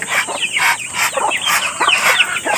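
Chickens and ducks on a farm cluck and chatter continuously up close, with overlapping short calls filling the whole brief stretch.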